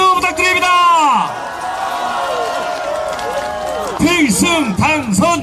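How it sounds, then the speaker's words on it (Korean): A crowd at a Korean political election rally roars and cheers steadily beneath a loud, amplified announcer's voice, with the shouting voice dominating the start and end. "다시 한번 뜨거운 함성 박수 부탁드립니다"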